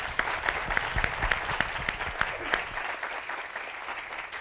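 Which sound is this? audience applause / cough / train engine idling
audience applause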